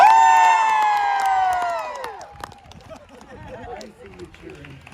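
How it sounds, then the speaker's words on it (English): Audience at a Renaissance festival knife-throwing show lets out a loud, drawn-out cheer that slowly fades over a couple of seconds into scattered murmurs and low crowd noise. "I see you cheering."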